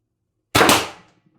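A Pistelle X-68 CO2 pistol fires a double shot, two sharp pops run together into one short burst that fades quickly, alone with no talking.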